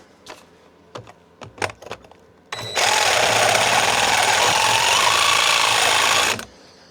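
After a few clicks and taps, a reciprocating saw cuts into a 33 kg transformer for several seconds with a loud, steady buzzing rasp, then stops abruptly.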